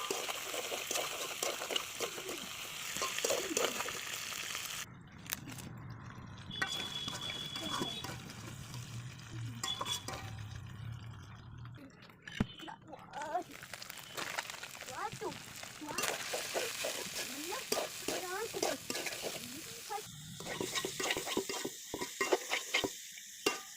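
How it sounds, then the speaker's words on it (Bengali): Onions, chili and fish frying together in a pan, a soft, close sizzle with stirring and scraping, with a voice speaking at times. "পেঁয়াজ মরিচ মাছ সহ সব ভাজা হচ্ছে একসাথে।"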